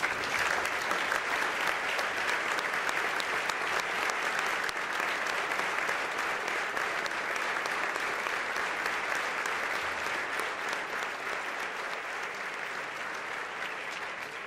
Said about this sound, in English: the audience to acknowledge them with a round of applause